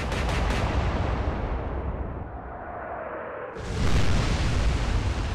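Battleship main guns fire in the naval strategy game Atlantic Fleet. A loud, sustained broadband roar eases briefly, then surges again near the end, with no voices.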